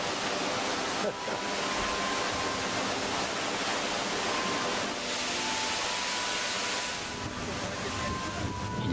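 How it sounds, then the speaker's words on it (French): The Saint-Benoît waterfall in the Maurienne valley heard up close as a loud, steady, broadband roar of rushing water that fills the whole stretch without pause. "La cascade Saint-Benoît."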